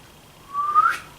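A single short whistled note from a human voice imitating a whistle signal, rising in pitch and fading, close and alone without speech.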